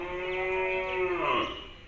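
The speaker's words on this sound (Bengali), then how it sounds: "খুব সুন্দর সাইজের গরু" A large cow at the Hazratpur Qurbani cattle market lets out a single close, drawn-out moo that slides downward at the end, over faint background market noise.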